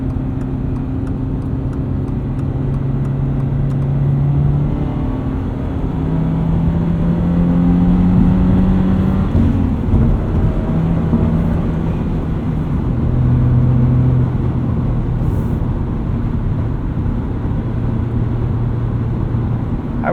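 A lifted safari-style 2022 Subaru BRZ sports car cruises at highway speed, about 60 mph, with a loud, steady cabin drone of engine, road and wind noise whose tones shift slightly and never stop.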